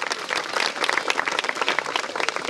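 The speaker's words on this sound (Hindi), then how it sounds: "इनके लिए भी जोरदार तालियां होनी चाहिए।" A village gathering at Sitapar, at a Gaumukh temple event, claps for the deputy sarpanch with brisk, dense, fairly close applause from a crowd lasting a couple of seconds.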